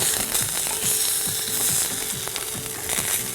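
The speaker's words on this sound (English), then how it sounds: "The pork's been cooking for about 6 minutes, so we'll flip the steak over." A pork loin steak fries in a hot pan with a steady, close sizzle and rhythmic crackling pops throughout, with no voices.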